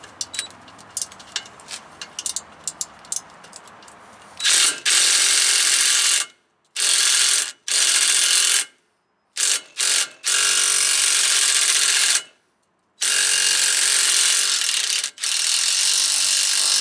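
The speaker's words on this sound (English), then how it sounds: "we need a 14mm socket and also 14mm socket or the wrench" A ratchet wrench with a 14mm socket works on the air dryer filter of a Freightliner Cascadia truck, giving light clicking at first, then loud sustained ratcheting in long bursts broken by short pauses, close up.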